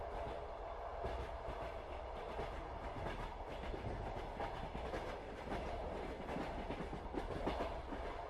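A night train on a winter journey rolls steadily along, with a continuous low rumble and soft, regular clickety-clack of wheels on rails throughout.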